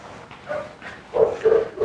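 Short barks and yips from a dog during multi-dog obedience training, two or three close, fairly loud bursts arriving in quick succession toward the end.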